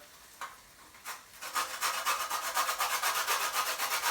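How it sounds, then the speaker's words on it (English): Lemon skin rubbed against a grater for zest, a quick run of rhythmic rasping strokes that starts with a few separate scrapes and then settles into a steady, close back-and-forth scratching with no talk. "we're going to get the lemon zest. So, the skin of the lemon. So you just get your grater."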